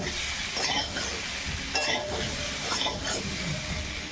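Turmeric and a little chili powder frying in hot oil with vegetables, a constant hiss and sizzle broken by repeated scraping strokes of a spatula stirring the pan, close and without talk.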